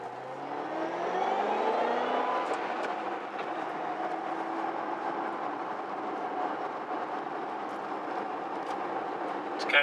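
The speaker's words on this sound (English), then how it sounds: "You can hear the supercharger really spin up." Supercharger whine from a 2008 Ford Mustang Shelby GT500 on the road, rising in pitch as it spins up over steady engine and road roar, heard from inside the car.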